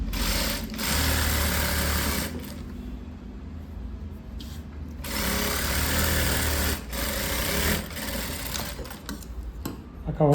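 A sewing machine stitches a blouse lining in several loud, close bursts of rapid mechanical whirring, with short pauses between runs.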